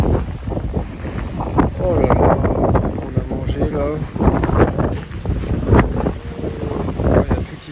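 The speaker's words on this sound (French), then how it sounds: "il y a beaucoup de vent aujourd'hui" Strong outdoor wind buffets the microphone steadily throughout, a loud rumbling gusty roar on a windy Danish coast during a bicycle tour, with a person talking over it.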